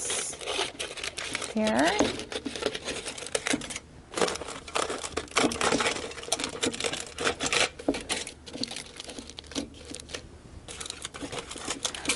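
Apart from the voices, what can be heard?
scissors trimming excess plastic wrap or aluminum foil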